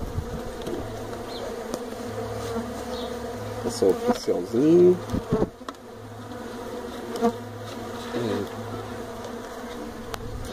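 Uruçu Amarela stingless bees buzzing steadily during hive splitting, a continuous close droning hum with brief louder passes, while a person speaks quietly over it.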